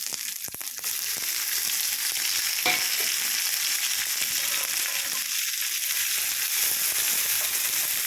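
Chopped tomato hits a hot pan for pumpkin palya and sizzles loudly, a steady close-up frying hiss with a few clinks and scrapes of stirring near the start.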